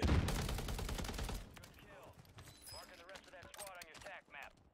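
Sustained automatic gunfire in Call of Duty, a loud rapid stream of shots for over a second, followed by someone talking over fainter game sounds.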